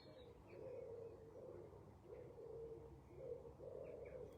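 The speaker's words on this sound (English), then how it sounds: "you can hear birds all over right now." Pigeons cooing while roosting at dusk, a soft continuous run of low, rolling coos that rise and fall in repeated phrases at moderate distance, with faint higher chirps from other birds scattered behind.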